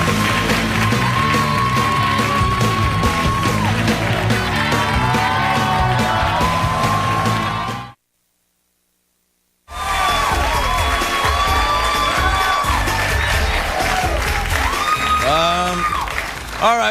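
Loud TV studio audience on a late-night talk show cheering, whooping and applauding in two long bursts separated by a brief silent gap, with yells rising over the clapping.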